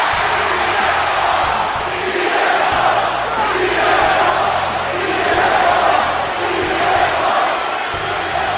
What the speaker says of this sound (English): The crowd here in Los Angeles loving the best in the world, CM Punk. Listen to them